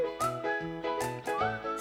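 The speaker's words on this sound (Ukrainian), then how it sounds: "Свистулька." A tooting toy whistle plays a few short warbling notes over a bright, chiming musical backing, moderately loud and close.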